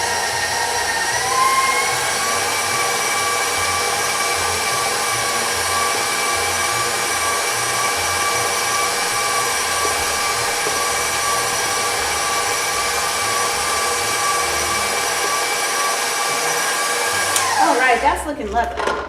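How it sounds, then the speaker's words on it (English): An electric mixer whips cooked potatoes for Duchess potatoes, giving a steady, loud, high motor whine that runs unbroken for about seventeen seconds before its pitch shifts and it winds down near the end. "I like to always start off slow with your mixer, and then you can increase speed as you go."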